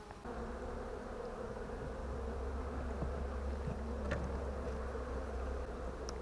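Honeybees hum steadily around the hives at an apiary, a sparse, even drone with a few individual bees buzzing closer past the microphone.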